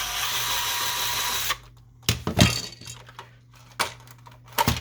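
A screwdriver works loose a screw inside an Epson XP-800 printer during disassembly, with a brief whirring burst and then several sharp clicks and knocks of plastic and metal, close up.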